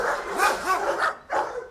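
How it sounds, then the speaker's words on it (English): Several dogs bark in a loose, overlapping burst, close and fairly loud, with yips and whines mixed in before a last bark after a brief gap. "Which was met with barks all around."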